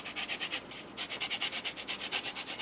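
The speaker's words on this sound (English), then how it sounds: "We're going to brighten that up with a little bit of lemon zest." A lemon is zested over a flatbread breakfast pizza, a quick run of about twenty rhythmic raspy scrapes across a grater with a brief pause partway, close and crisp with no talking.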